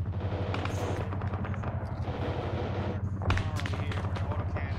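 Gunfire aimed at a vehicle during mechanized ARMA 3 combat: rapid repeated shots and bursts with a sharp impact near the end, over a constant engine drone, with radio-style voices talking.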